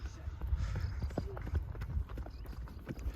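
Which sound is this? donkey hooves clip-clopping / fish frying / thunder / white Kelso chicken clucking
donkey hooves clip-clopping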